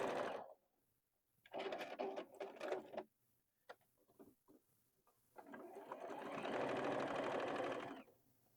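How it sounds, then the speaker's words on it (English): A sewing machine stitches quilted fabric pieces together for a quilted sleeve sweatshirt, running in three close, steady bursts with short pauses and light handling sounds between them. "So you just pick one up, sew it to the end of the other one, just like this."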